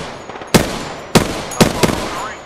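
Video game gunfire: three sharp, loud bursts of shots spaced about half a second apart, the last followed by a few quicker rattling shots, close and alone.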